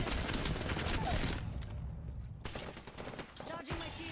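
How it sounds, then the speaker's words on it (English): Gunfire from flanking enemies in an Apex Legends match: a quiet, dense spatter of shots through the first half, then thinner scattered cracks, with faint voices mixed in. "Some flankers shooting at me."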